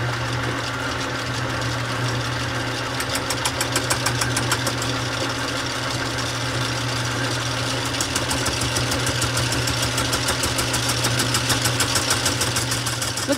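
A lathe with a carbide insert faces a cast iron engine cylinder, giving a steady droning hum with a fine, fast chattering texture in the cut that holds evenly throughout.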